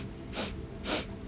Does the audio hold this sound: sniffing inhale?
yes